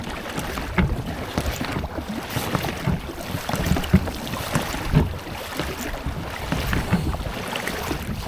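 Oars row a small boat through shallow water on a February pike-fishing trip, with steady rhythmic stroke splashes roughly once a second under constant wind noise and no talking.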